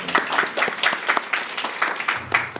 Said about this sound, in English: Maybe we can just give him a round.